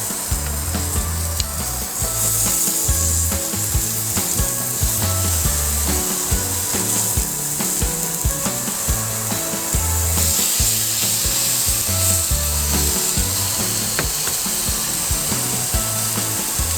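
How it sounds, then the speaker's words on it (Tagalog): Pork belly grilling with a steady, dense sizzle and crackle throughout, under a low repeating thumping background beat; no talking. "Ngayon, iihaw na natin ang ating pork belly."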